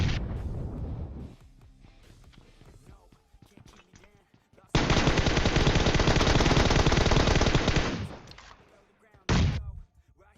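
Loud bursts of rapid automatic gunfire in PUBG Mobile, one long sustained volley and a shorter burst after it, separated by quieter stretches with some talk.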